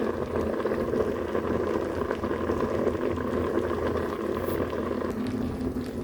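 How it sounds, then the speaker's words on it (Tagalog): Sinigang na isda, a Filipino fish soup with pechay, boiling in a pot: steady close bubbling and gurgling, continuous and even, with no talk over it. "Dinig na dinig yung kulo-kulo, di ba? Kulong-kulo."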